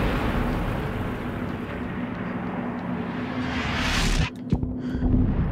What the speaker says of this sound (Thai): ปืนใหญ่เหรออยู่ตรงไหนอ่ะ